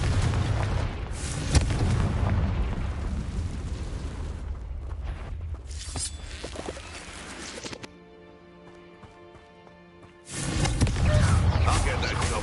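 A Confringo fire spell in Hogwarts Legacy sets off a loud, booming blast with rumbling debris and crackle. It fades into a quieter stretch with a tonal musical hum, then surges back into heavy noise near the end.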